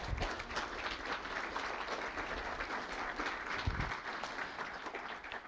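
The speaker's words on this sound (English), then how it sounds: "please give a round of applause to Kai" At a NAMI Walks kickoff luncheon, an audience applauds a sponsor with a steady, moderately faint wash of clapping heard from a distance, holding evenly for several seconds.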